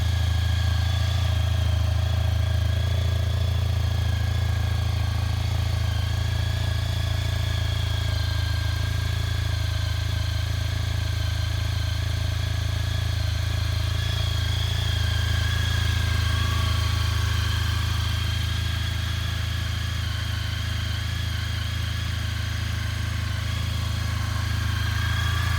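A 2003 Honda ST1300 ABS motorcycle idles steadily after a start, its engine a continuous low, even rumble with a faint mechanical whine, close and loud, no voices.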